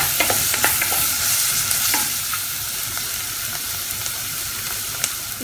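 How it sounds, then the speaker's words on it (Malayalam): Onions frying in a pan with ginger garlic paste, stirred with a utensil: a steady close sizzle with repeated scraping stirs and small clinks, no voices. "ഇനി ഇതിലേക്ക് ഇഞ്ചി വെളുത്തുള്ളി പേസ്റ്റ് ഇട്ട് കൊടുക്കാം. ഇതെല്ലാം കൂടി നന്നായിട്ടൊന്ന് മിക്സ് ചെയ്ത് കൊടുക്കാം."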